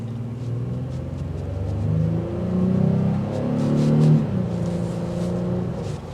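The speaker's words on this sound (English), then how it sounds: "That's what a V6 is going to sound like." The V6 of a 2024 Honda Ridgeline RTL pickup, rated at 280 horsepower, revs up and settles back in a moderate, smooth rising-and-falling engine drone with no talking over it.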